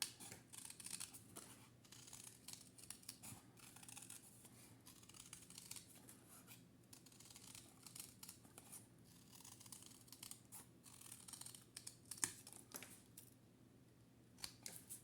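Scissors snip steadily around a paper or card circle for a desk organiser, soft repeated cuts and rustling close by with no talking.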